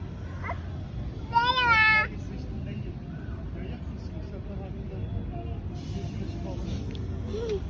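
A kitten gives one clear, rising meow over a steady low background hum, with faint indistinct sounds afterward.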